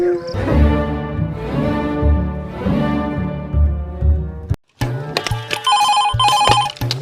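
A telephone bell rings in repeated bursts, a bright jangling tone returning in steady pulses, then after a short gap an electronic ringtone melody plays loud and close.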